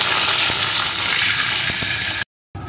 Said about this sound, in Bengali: এখন এর ভিতরে আমি দিয়ে দেব আলুর টুকরোগুলোকে। আলুগুলো একটু ভেজে নেব।